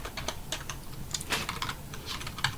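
Rapid, uneven keystrokes on a computer keyboard while entering code for a JavaScript page, close and fairly steady throughout, with no talking.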